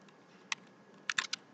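Typing on a computer keyboard: one isolated keystroke followed by a quick burst of four clicks, close and crisp in a quiet room with no talking.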